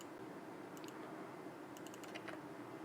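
Code typed on a computer keyboard, two short clusters of light, faint key clicks over a loud constant background hiss, with no voices.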